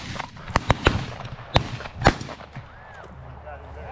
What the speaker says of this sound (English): There was plenty of shooting for everybody on that one.